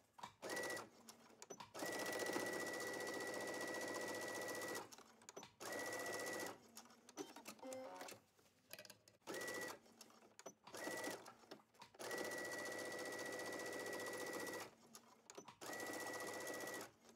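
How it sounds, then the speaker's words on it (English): A sewing machine stitches along the sides of a fabric face mask in several steady whirring runs of a few seconds each, separated by short pauses, close and clear. "Finish your mask up by sewing along both sides."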